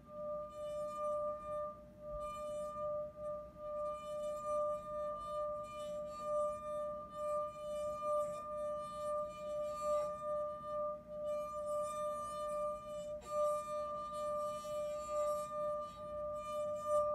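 A resonating drinking glass rings with a sustained, pure tone that holds steady, with faint clinks and light background noise, quiet and close.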